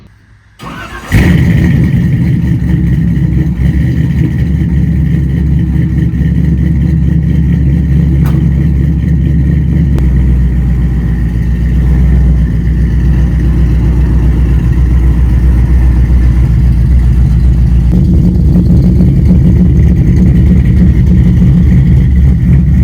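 Chevrolet C10 truck engine starting from cold: a brief crank catches after about a second, then a loud, rumbling idle holds steady with a rise in revs near the end.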